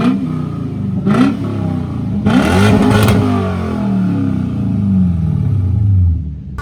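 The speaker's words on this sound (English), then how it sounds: "Can we get a couple revs?" A modified Lexus V8 revved hard up close, loud rising and falling engine bursts with sharp blips, then settling back toward idle.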